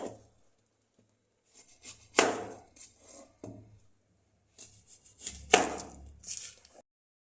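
A knife chops onion, coriander and chillies on a board for a vegetable dish, in short bursts of quick, crisp cuts separated by quiet pauses, close by with no talking.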